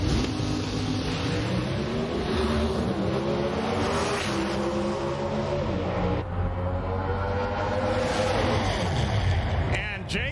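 Pro Stock drag race cars at the 2006 NHRA Mile High Nationals eliminations roar steadily down the strip, a loud sustained engine drone with shifting harmonic tones throughout and a brief change near the end.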